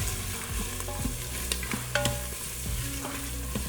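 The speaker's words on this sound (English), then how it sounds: "And saute the onions till they turn translucent." Chopped onions and spices sauté in an Instant Pot, a steady close sizzle broken by scraping stirs and small clinks of a utensil against the pot.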